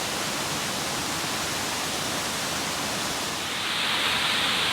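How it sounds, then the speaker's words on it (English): The lower falls of Pisgah Gorge pour in a dense, steady roar of rushing water, loud and close, with no voices over it. "That is a spectacular waterfall right there."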